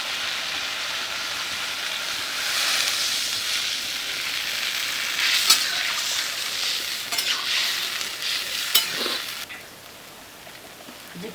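Masala roasting and being stirred in a pan for a Manipuri fish curry with drumstick, a steady sizzle with scraping stirs and a few sharper clacks, the frying easing off near the end.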